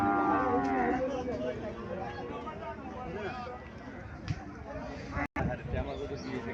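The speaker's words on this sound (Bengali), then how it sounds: "এখানে একটা গাভী দেখা যাইতেছে।" A Haryana breed cow lows loudly and close at a farm, a long harmonic moo at the start followed by shorter calls, with people talking and handling noise around it.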